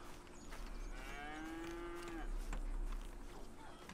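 A cow in Red Dead Redemption 2 lets out a single drawn-out moo over quiet ambient farm background, moderately near and alone without speech.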